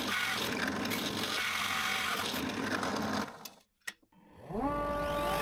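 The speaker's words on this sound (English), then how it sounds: "Then I switch to a 54 millimeter hole saw and drill without moving the bit out of position." A 54 millimeter hole saw grinds steadily through wood for several seconds, then stops with a brief clack before a power tool's motor winds up again.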